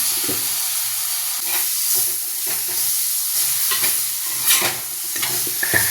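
Tomato sautéing in a pan for chicken kuzhambu: a steady close sizzle with scraping stirs and a few sharper clinks of the spoon against the pan, no talking.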